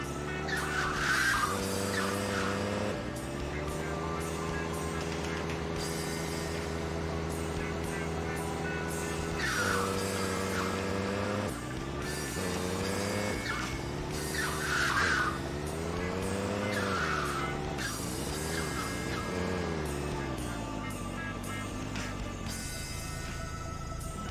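A car in Grand Theft Auto 2 driving halfway on the sidewalk, its engine droning loudly and steadily throughout, rising and falling in pitch as it shifts and speeds up, with occasional tire squeals.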